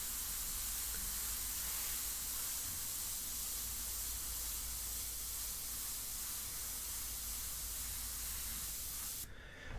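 An airbrush sprays India ink onto paper in a continuous close hiss, steady and loud for nearly ten seconds before cutting off abruptly at the end.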